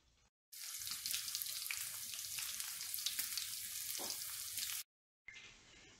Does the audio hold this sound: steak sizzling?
yes